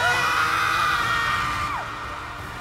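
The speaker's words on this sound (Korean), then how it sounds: "듣는 이의 가슴이 찢어질 것 같은 고통의 비명들이 들려왔습니다." Suffering souls in hell scream in agony: a dense, loud crowd of shrieking and wailing voices that runs on continuously, with one cry sliding down in pitch before the chorus eases slightly.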